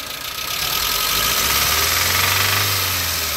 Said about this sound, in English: Okay, and then rev it up.